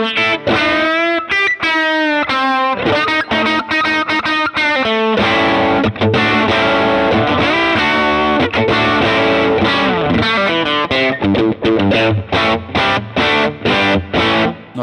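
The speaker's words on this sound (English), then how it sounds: "the Blues Junior with the fat channel on and the master volume wound up for this" Electric guitar rings through an Axe-FX III Blues Junior amp model on the fat channel with master volume cranked, a loud, crunchy passage of riffs and sustained chords with no voices.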